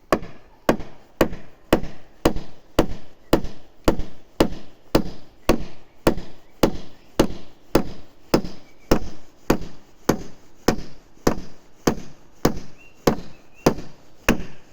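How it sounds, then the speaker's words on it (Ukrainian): Nails being hammered into boards while building the floor of a second storey: a long, steady series of sharp, loud wooden blows at an even rhythm of roughly two per second, close by and without speech. "Вбиваємо двохсотку цвях і положимо тут палицю оцю."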